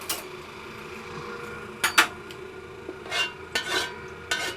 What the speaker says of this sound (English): So you hear this already making a noise, like sizzling, ready to go.